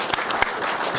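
Studio audience applause on a French talk show, a brief, loud burst of dense clapping with a couple of sharper individual claps standing out.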